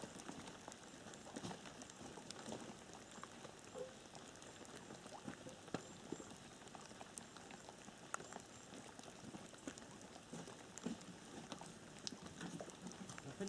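Rain falls in a forest, a faint, dense, continuous patter of drops on surfaces with no voices.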